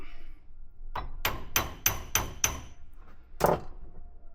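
After a moment of quiet, a hammer taps a metal part on a Mark 1 Ford Escort van five times in a steady rhythm, then gives one final, slightly harder tap.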